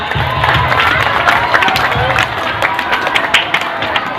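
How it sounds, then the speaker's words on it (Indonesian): An audience at an elementary school co-curricular event at SDN Grogol 01 claps steadily, mixed with cheering and children's shouts, loud and continuous throughout. "Tepuk tangan lagi buat kita semuanya."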